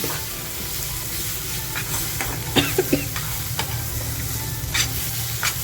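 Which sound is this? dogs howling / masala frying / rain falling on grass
masala frying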